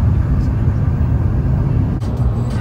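Steady low engine drone and road rumble from a Fiat 500 driving on the way to Seville, Spain, heard from inside the cabin as a continuous loud hum with no talking.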